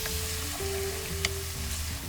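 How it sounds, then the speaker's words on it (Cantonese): Chopped shallots frying in hot lard in a wok, a steady soft sizzle with light crackle running throughout, close and even, no voices. "將乾蔥頭爆香"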